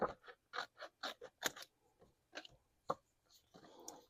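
Pruning shears cut a bonsai branch with a series of short, crisp snips and clicks, close and quiet, followed by a softer rustle of the branch.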